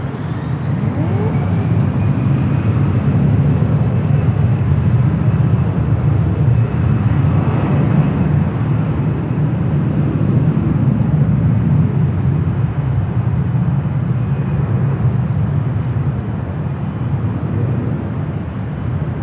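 A Delta airliner taking off from runway 24 left at LAX gives a continuous heavy roar with deep rumble, loud and sustained throughout, with no speech over it.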